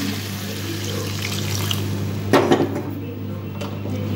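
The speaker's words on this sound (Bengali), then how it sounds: "এরপরে দিয়ে দেব জল।" Water poured into a curry simmering in a pan, a brief splashing burst that rises out of a steady kitchen hum and then settles back into a low bubbling background.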